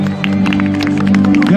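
A live concert crowd applauds and cheers a conductor, loud and close, with a sustained clatter of clapping over music and crowd noise.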